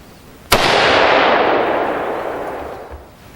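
A single loud rifle shot from an AR-15 in 5.56 fitted with a Fortis muzzle brake cracks sharply nearby, followed by a long, broad rumbling echo that fades over a few seconds.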